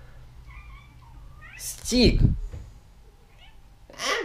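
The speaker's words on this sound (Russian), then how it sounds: "Он постоянно мяукает" A cat gives one loud, drawn-out meow close by, set among a quieter room, and a person calls out briefly near the end.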